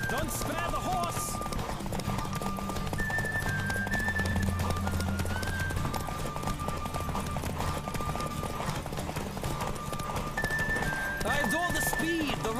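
A horse races at full gallop in The Witcher 3, its hoofbeats drumming continuously beneath game music and ambient noise, with occasional horse snorts and whinnies rising above the rhythm.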